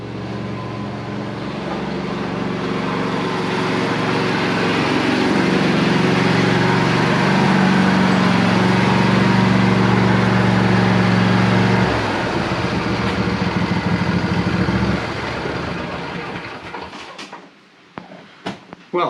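A John Deere lawn tractor engine runs with a steady, rough drone that builds, holds loud for several seconds, then drops and cuts off near the end, leaving a few clanks.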